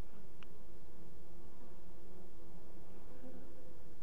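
Honeybees buzz in a dense, steady hum at a crowded hive entrance, many insects blending into one continuous close drone with no talking.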